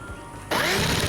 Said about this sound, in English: I go ahead and drill screws